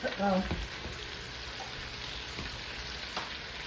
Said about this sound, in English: We'll move this around a little bit so the vegetables get into it